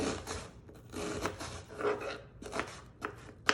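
A knife chops half an onion roughly on a board for a homemade Italian marinara sauce, making a series of close, irregular thuds and cuts with short pauses between strokes.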